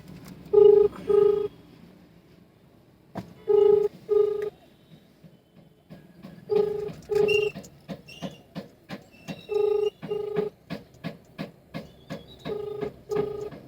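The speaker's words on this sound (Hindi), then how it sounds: "तो मैं फ़ोन लगाती हूँ अपने हस्बैंड को, देखती हूँ क्या बोलते हैं, स्पीकर में करूँगी।" Phone call dialed on speakerphone: paired electronic dialing beeps come in short bursts, followed by a quick run of rapid tones, loud and close with no talking.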